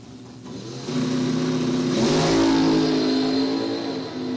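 Dragster and roadster launching side by side at a bracket drag race, engines building from a steady idle to a loud sustained roar that swells and peaks, then eases slightly as the cars pull away.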